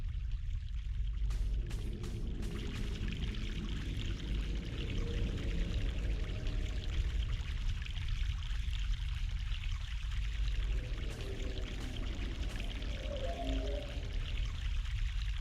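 Fresh mountain water pours steadily from a stream in the video game The Longest Journey, a continuous close splashing gush that runs unbroken and alone throughout.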